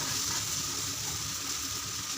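Onion, green chilli and curry leaves sauté in a hot pan, giving a steady, close sizzling hiss of frying that holds evenly throughout.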